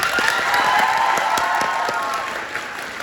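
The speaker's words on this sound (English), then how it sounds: "Make a big round of applause for Renee." Steady applause from a crowd, dense clapping that holds at a strong level throughout with a few sharper claps standing out.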